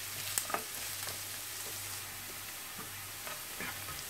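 Carrots being stirred and fried in a pan, a steady close sizzle with a few scraping clicks from the stirring, no voices.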